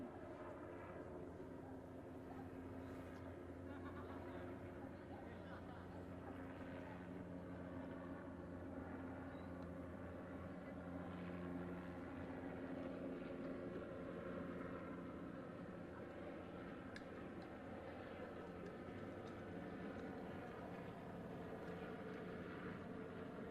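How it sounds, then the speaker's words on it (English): A sheriff's helicopter makes a pass over a standoff on Salinas Street, Santa Barbara: a steady, continuous engine drone with a low throbbing hum, holding at a fairly even level throughout with no talking. "a sheriff's helicopter is about to make another pass on Salinas Street"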